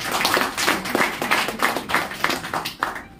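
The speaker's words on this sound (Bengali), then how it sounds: "প্রত্যেক লিডারের জন্য একবার জোরদার হাততালি" Audience claps for each leader at a network marketing talk, a steady patter of many hands with rhythmic accented bursts roughly every half second, close and fairly loud throughout.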